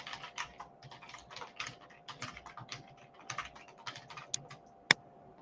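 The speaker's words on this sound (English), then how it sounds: "and then you would type in the information." Rapid keystrokes on a computer keyboard in a quiet room, a steady patter of close clicks in short bursts, ending with a single sharper key strike near the end.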